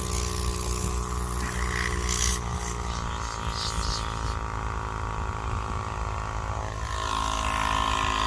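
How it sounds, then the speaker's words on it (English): A battery-powered compressor inflating a new tubeless blokart tire runs as a steady, loud motor drone with a faint hiss, holding constant for the whole stretch with no talk over it. "use my standard battery-powered compressor that I have in my trailer"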